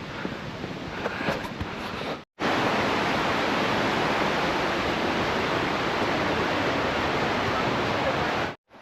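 Waterfall at Johnston Canyon in Canada: a loud, steady, close roar of rushing water that fills the clip, with a brief cut near the start and faint voices before it.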